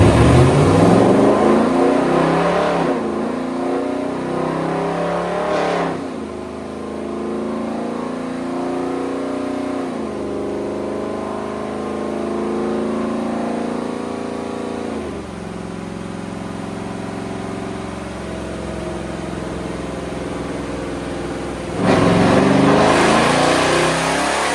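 Dodge Charger on a dyno during an oil warm-up run, its engine loud and close as it revs up in repeated pulls, each winding up in pitch and dropping back, with a harsh roar at the start and end and no talk.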